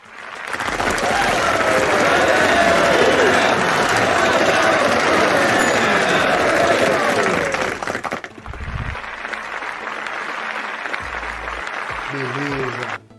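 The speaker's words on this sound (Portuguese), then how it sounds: "E merece uma salva de palmas." An audience bursts into loud, sustained applause that lasts about eight seconds before cutting off abruptly, leaving quieter room noise and a few faint sounds.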